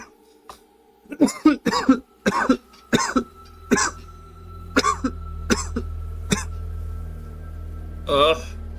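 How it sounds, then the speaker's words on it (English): A character in the video game Control coughs repeatedly in a rapid burst of harsh coughs, then a few scattered coughs, over a low background hum with a final wheezy cough. "Every time I cough, it hurts."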